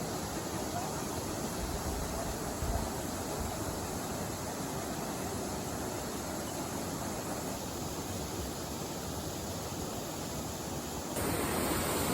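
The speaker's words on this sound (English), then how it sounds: "We're right here in front of Turner Falls." Turner Falls waterfall in Oklahoma, a loud, constant broadband roar of falling water close by, unbroken for the whole stretch with a brief shift in tone near the end.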